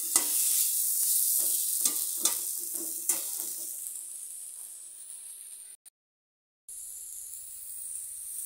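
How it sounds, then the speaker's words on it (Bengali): Ginger and mixed spices stirred in a hot frying pan, a steady close sizzle with several sharp scrapes of the spoon, fading to a quieter hiss before a brief cutout and a low hum. "এখন আদাটা দিয়ে দিচ্ছি। সব মশলা একসাথে মেলানো ছিল, একসাথে দিয়ে দিলাম, দিয়ে নেড়ে দিচ্ছি"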